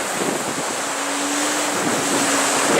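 Loud, continuous rush of wind and breaking ocean water aboard a sailboat surfing downwind in about 25 knots during a transatlantic race leg from Madeira to Martinique, with a faint low hum briefly threaded through and no talking.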